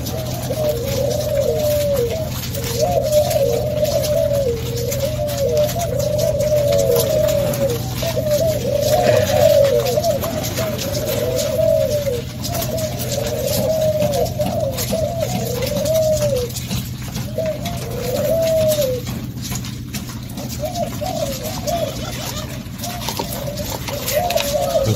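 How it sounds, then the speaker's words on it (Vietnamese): Pigeons cooing in a bird-keeping setting, a repeated, rhythmic series of soft, rolling coos close by over a steady background hum, with some faint talk. "Hồi nó gù cho anh em thấy."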